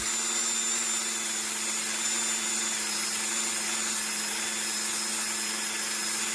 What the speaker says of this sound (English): I'm just using light pressure when I'm buffing